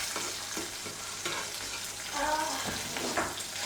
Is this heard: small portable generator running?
no